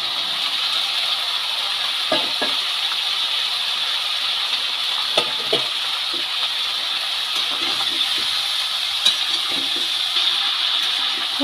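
Cauliflower pieces and small cut potatoes fry together in hot oil in a pan for samosa filling, giving a steady loud sizzle and hiss with scattered soft knocks and stirring clatter.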